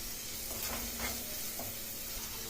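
Carrot and tomato pieces sizzle in a hot pan with a steady frying hiss, and a few stirring scrapes rise above it.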